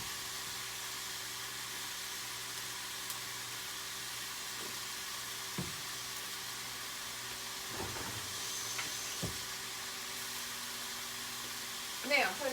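A rinsed, dried, barbecue-rubbed pork piece sears in a hot pan, giving a steady, even hiss that runs unbroken, with a few faint clicks and a small clatter at the end.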